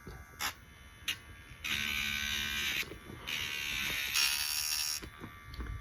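A YABIFE electric dog nail grinder runs in two or three sustained, close, high buzzing bursts, grinding down a dog's nail, with short quiet gaps and faint knocks between them.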